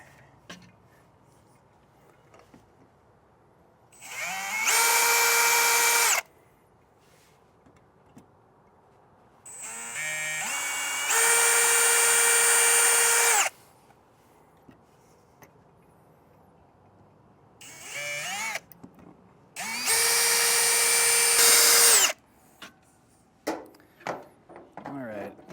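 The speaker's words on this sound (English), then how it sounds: "I can keep making my drill holes here" A power drill bores holes into a 2017 Jayco RV for a MORryde Safe-T-Rail telescoping hand rail, giving four separate bursts of loud, whining motor spin, each about two seconds long, with quiet pauses between them.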